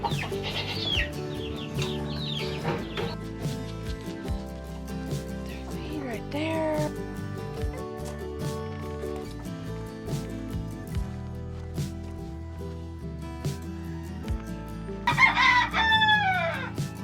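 Chickens in a farm coop cluck and crow repeatedly, with a loud rooster call near the end, while a person talks over the birds throughout.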